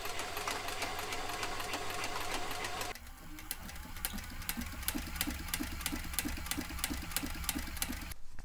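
A sewing machine stitches shoe parts in a rapid, even mechanical whir with regular stitching pulses, close and fairly loud, briefly changing pace partway through before running steadily on.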